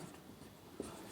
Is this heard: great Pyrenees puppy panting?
no